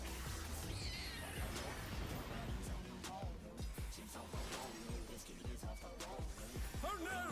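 A cartoonish cat yowls and meows repeatedly during a Final Fantasy XIV M6S raid enrage, mixed with game effects and voices chattering over it.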